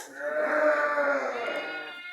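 Sheep in a barn with their newborn lambs, one long, loud, wavering bleat close by, followed by a fainter, higher bleat near the end.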